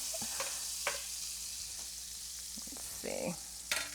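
Lion's mane mushrooms fry in plant-based butter in a warm pan, giving a steady close hiss broken by scattered crackles, a few soft stirring scrapes and a brief louder bump near the end, with no talking.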